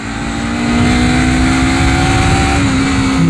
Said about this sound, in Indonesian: Raungan dari mesin CBR ini lebih keras daripada knalpotnya guys.